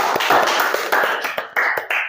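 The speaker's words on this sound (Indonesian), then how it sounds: "Oke, tepuk tangan, bagus." Audience at a school anti-bullying program clapping hands, a short burst of quick, close, slightly uneven claps tapering off over about two seconds.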